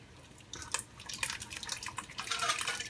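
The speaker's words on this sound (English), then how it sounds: "In go the tomatoes." Canned tomatoes sloshing and splattering into a curry pot with chicken, a soft wet pour building over a couple of seconds, fairly quiet and close.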